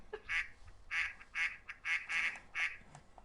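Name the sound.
duck quacking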